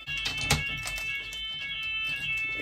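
A building fire alarm rings continuously with steady high electronic tones, close and loud, alongside a few soft thumps and rustles and no talking.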